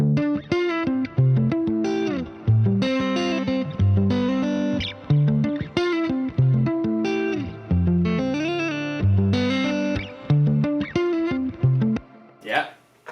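Electric guitar with overdrive plays a chord-heavy riff, washed in shimmering reverb and bouncing ping-pong delay, loud and continuous before a brief swell at the end.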